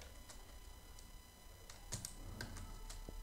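Code typed on a computer keyboard: faint, scattered key clicks in small irregular bursts, close by over a steady low electrical hum, with no talk.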